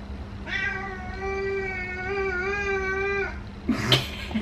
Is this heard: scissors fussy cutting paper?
no